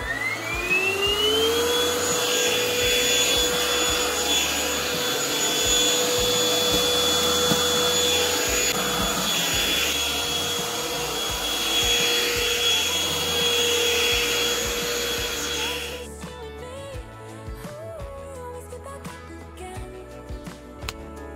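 A vacuum cleaner with a light at the front runs continuously over a rug, a loud steady whining roar that ramps up at the start and then gives way to background music.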